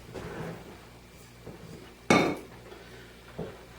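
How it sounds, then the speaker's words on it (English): A metal dough hook clanks into place on a stand mixer, one sharp loud metallic knock preceded by softer handling rattles and followed by a lighter clink, no talking. "Go ahead and put our dough hook on our mixer"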